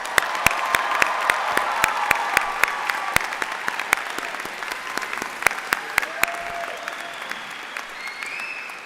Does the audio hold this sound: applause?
yes